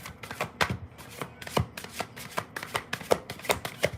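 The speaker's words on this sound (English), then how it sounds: "I'm still learning how to shuffle" Tarot cards are shuffled by hand in a quick, irregular series of soft riffling slaps and flicks, close and fairly quiet, with no talking.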